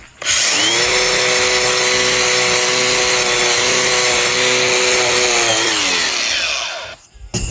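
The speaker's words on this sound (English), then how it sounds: "metal wheel takes off rubber really fast" A metal wire wheel on a power tool grinds rubber off a tire, giving a loud, steady high-pitched whine that runs for several seconds before winding down near the end.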